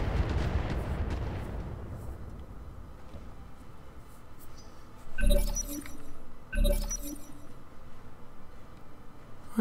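In the game Roguepoint, two loud gunshots ring out a little over a second apart, each with a sharp crack and a brief metallic ring, after a rumbling start and quieter ambience.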